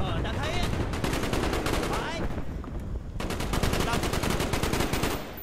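Turret gunfire in Call of Duty Black Ops: loud, rapid automatic bursts in two long stretches separated by a brief dip, with other battle noise mixed in.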